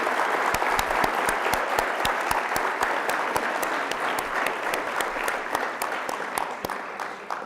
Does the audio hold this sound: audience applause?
yes